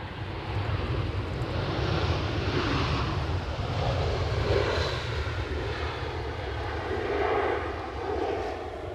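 A VistaJet aircraft moves at Edinburgh Airport, its engines giving a loud, steady rushing drone with faint wind noise, close by and continuous.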